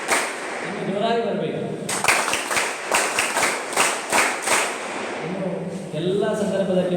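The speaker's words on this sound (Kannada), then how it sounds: "ವಿದ್ಯಾರ್ಥಿಗಳು ಈ ರೀತಿಯಾಗಿ ಜೋರಾಗಿ ಚಪ್ಪಾಳೆಯನ್ನು ಹಾಕ್ತಾ" At an NSS camp inauguration, students clap loudly together in a patterned rhythm of sharp synchronized claps for several seconds, with someone talking over a microphone before and after.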